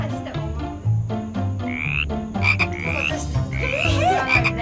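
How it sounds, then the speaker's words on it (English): A tiny toad croaking, with several short, repeated calls close by, heard over a busy background of tonal sounds. "There's a tiny toad."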